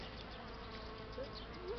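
Honeybees swarm around their hives on a warm spring day, about 20°C, during a strong cleansing flight, making a dense, steady buzz close by, with a faint brief whine rising above it now and then.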